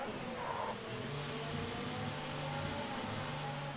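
F1 race car from F1 2019 at the Russia circuit entering the pit lane, a steady low engine drone with faint tonal whine, fairly quiet and unbroken, with no talk over it.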